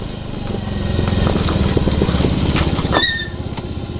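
A Tank Urban 50 moped putters steadily while being ridden at low engine speed, giving a close, continuous buzzing drone with a rapid pulse and a brief rise near the end.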